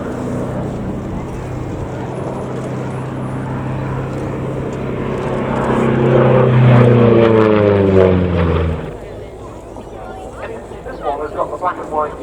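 A Republic P-47 Thunderbolt warbird with invasion stripes flies at the RAF Cosford Airshow, its piston engine droning as it nears, swelling to a loud pass, then dropping off sharply, with faint chatter afterward.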